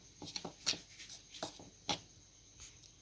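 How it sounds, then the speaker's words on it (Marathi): A dry bread pakoda mixture is stirred together with garlic paste by hand, producing soft, irregular scraping and rubbing strokes, quiet and close, with no talk. "यामध्ये पेस्ट टाकायची आणि हे कोरडं मिश्रण पूर्ण कालवून घ्यायचं आहे, मिक्स करून घ्यायचं आहे आधी."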